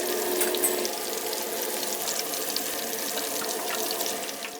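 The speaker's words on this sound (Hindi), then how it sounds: "गरम तेल में झींगा डाला जाता है और आवाज आती है।" Shrimp dropped into hot oil for tempura, a loud continuous hissing sizzle close up that holds steady throughout without voices.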